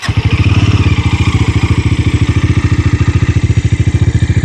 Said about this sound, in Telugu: ఇది మనకి ఐడ్లింగ్లో సౌండ్.